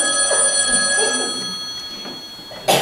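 A telephone bell rings loudly and continuously during a school theatre play, its steady metallic trill sustained throughout before a sharp burst near the end.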